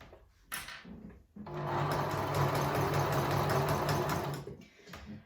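Sewing machine stitching through a quilt, a steady whirring run of about three seconds, close and fairly loud, starting and stopping with short handling sounds on either side.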